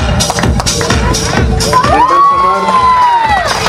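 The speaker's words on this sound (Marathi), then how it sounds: "जोरदार टाळ्या समर्थसाठी" A school sports-day crowd at an academy ground bursts into loud cheering and shouts for the high jump winner, with children's voices and a rising whistle-like whoop partway through.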